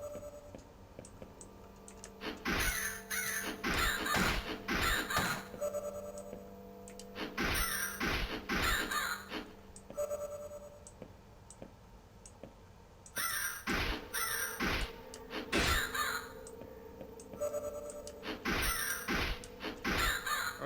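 Crows caw repeatedly in the horror video game House of Necrosis, loud harsh calls in clustered bursts separated by pauses, with keyboard typing and mouse clicks underneath.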